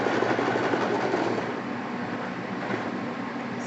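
A sewing machine stitches in a continuous fast mechanical whir with rapid rhythmic clatter, fairly loud and close, running steadily without pause.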